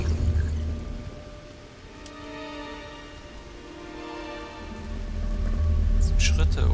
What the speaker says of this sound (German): Regnet's einfach.